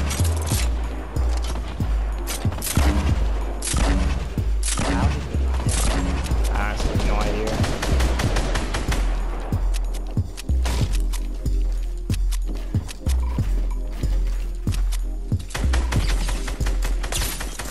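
Rockets fired repeatedly in a battle-royale shooter game, a rapid, dense volley of sharp blasts and crashes running throughout, with voices talking over the barrage.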